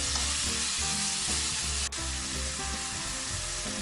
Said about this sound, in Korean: 설탕 반 스푼 뿌려서 구워주세요